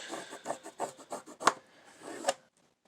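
A bone folder or stylus scores folded paper for a small envelope base, a series of short dry rubbing strokes with two sharper scrapes, close and quiet, no talking.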